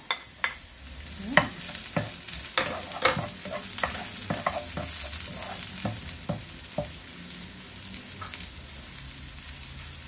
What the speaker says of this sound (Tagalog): I-fry muna natin saglit yung ating pusit mga lodi